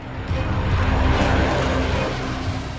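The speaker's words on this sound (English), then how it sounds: "Once the F-16 is cleared for takeoff, the pilot initiates the taxiing process." F-16 fighter jet taxiing toward the runway, a loud steady engine roar with a whining hum that swells slightly and then eases, heard close with no talking.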